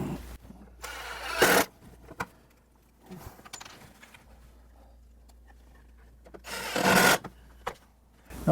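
A power drill drives screws into wood while an Adirondack chair is assembled, two loud whirring bursts with quieter bumps and handling noises between them, close up.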